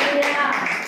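Brief burst of a church congregation clapping hands together at the close of a Telugu sermon, a dense, steady patter of many hands lasting under a second.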